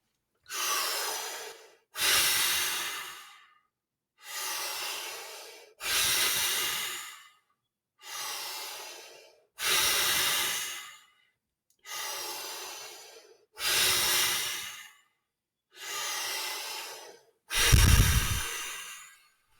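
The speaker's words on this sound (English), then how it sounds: "Let that controlled breath go." Controlled breathing in a guided breathing exercise: nine strong, close breaths in an even rhythm, each a forceful airy inhale or exhale separated by short pauses, with no talking.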